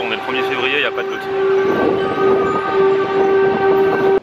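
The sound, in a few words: monthly first-Wednesday public alert siren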